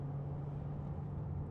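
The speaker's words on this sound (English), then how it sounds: "Click that into sport, press it down into sport, you'll hear engine noise." A 2014 Range Rover 4.4 SDV8 Autobiography diesel engine idles in sport mode, a close, steady low drone with a firm hum and no speech over it.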